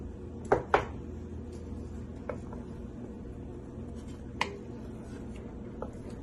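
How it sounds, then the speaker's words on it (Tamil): A metal lid set down on a pot of moor kuzhambu with brinjal: two sharp clanks close together early, then lighter taps and clicks over a low steady background, no talk. "உப்பு சேர்த்து இப்ப மூடி வச்சிடறோம்."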